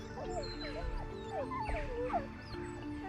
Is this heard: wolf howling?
yes